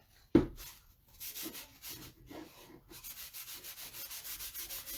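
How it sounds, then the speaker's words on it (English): Wax rubbed by hand around a wooden frame for DIY foyer decor: one sharp knock, then a run of quiet, rhythmic rubbing strokes, close and alone. "I'm going to just wax all the way around this frame"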